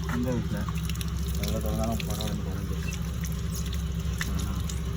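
Water from a washer runs steadily during a service wash of a five-year-old air conditioner, a constant hiss and splash near at hand, with voices talking over it.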